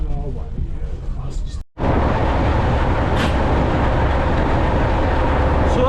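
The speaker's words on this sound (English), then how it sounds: "this is now on the train again back to Bo'ness" A diesel heritage train rides along the Bo'ness and Kinneil Railway: a loud, steady rumble and rattle fills the carriage, interrupted by a brief dropout near the start before the constant roar resumes.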